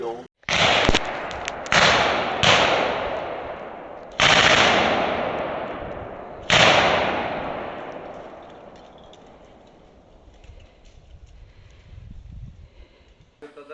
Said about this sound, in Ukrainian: опублікувало відео з кордону з Білоруссю, на якому чути постріли